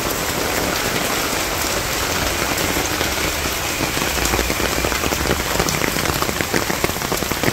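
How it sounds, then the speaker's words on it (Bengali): Heavy rain pours down in a Bangladeshi village, a dense, steady hiss of drops drumming on surfaces that stays loud and constant throughout, with no voices. "বৃষ্টি আরো বেশি আসছিল, কিন্তু কমে গেছে এখন।"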